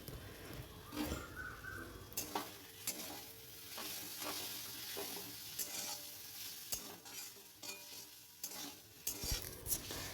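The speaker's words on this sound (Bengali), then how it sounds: "আলু ভাজাগুলো দেওয়ার পর এবার মিশিয়ে নিয়ে নামিয়ে দেব" A spoon stirs fried potatoes into cooked greens in a pan, soft scraping strokes coming in uneven bursts over a quiet, low sizzle.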